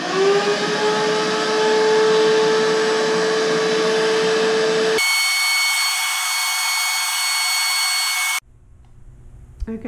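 A vacuum cleaner whines steadily while picking up dust from a glass mosaic tile mural, loud and constant, its tone jumping partway through before it cuts off, leaving faint handling noises.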